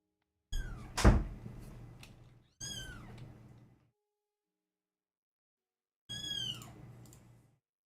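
Cat meowing in the Minecraft video game, modded version 1.16.5 in a sky block style pack: three separate meows, the first with a sharp thunk at its start, then a pause before a last one, loud and alone.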